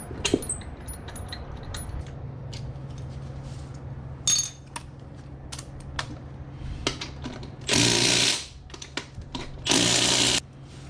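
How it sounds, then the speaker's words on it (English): Bolts on a Toro Grandstand Multiforce plow attachment are driven tight with a power tool in two loud, sustained bursts, between light metallic clinks and rattles of parts being handled. "And you just secure the bolts."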